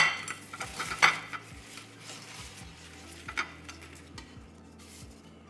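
Crunchy steak fries are set down onto a plate with light utensil clinks and scraping clatter against the dish, sharp taps standing out from a soft kitchen background.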